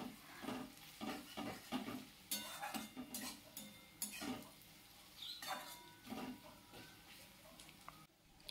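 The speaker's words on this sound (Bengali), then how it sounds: "এবার ম্যারিনেট করা চিকেনটা দিয়ে দিলাম" Marinated chicken going into a hot pan for capsicum chicken, with scraping stirs and utensil clatter against the pan over a steady sizzle, close and moderately loud, no talking.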